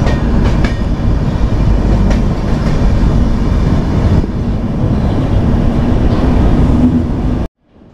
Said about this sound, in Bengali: এর আগেও ট্রেনটা দু তিনটে টানেল পার করে এসেছে, এখন আবার একটা টানেলের মধ্যে ঢুকছে।